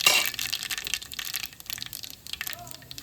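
Mustard seeds crackle and pop in hot oil during tempering for a jackfruit vegetable dish, a burst of sharp sputtering that starts loud and thins into scattered pops, with faint talk in the background.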